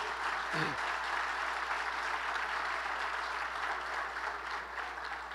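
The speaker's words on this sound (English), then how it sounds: "Round of applause for that, because we're going to win it." A school district breakfast crowd applauds a high school barbecue team, a continuous even patter of many hands clapping at moderate volume throughout, with a brief low thump near the start.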